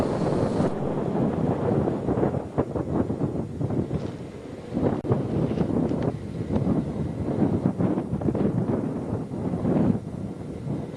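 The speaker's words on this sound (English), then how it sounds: "as you can probably tell, the wind is really blowing" Strong wind buffets the microphone outside a horse barn on a ranch, a steady loud roar with gusting surges and rumbling that never lets up.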